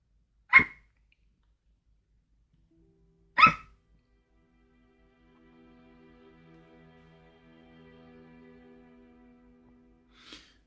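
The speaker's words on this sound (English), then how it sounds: "I'm gonna bring Okay. the dogs in real quick" Dogs give two sharp, loud barks a few seconds apart, then a faint third yelp at the end, with a quiet low hum between.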